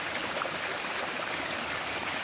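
A freshwater stream in a village flows with a soft, steady broadband rush and trickle, continuous and fairly quiet, with no voices present.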